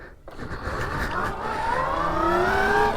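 A 72-volt electric bike switched into race mode pulls away with a rising motor whine that climbs steadily in pitch as it accelerates, close and fairly loud, over a rough rolling rumble.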